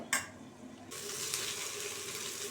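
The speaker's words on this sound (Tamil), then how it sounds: "முதல்ல வெண்டைக்காவை ஒரு கடாயில் போட்டு வதக்கி எடுத்துக்கோங்க" Okra sautéing in a kadai for a kuzhambu, with a brief clink of a utensil at the start followed by a steady, close, continuous sizzle that runs to the end.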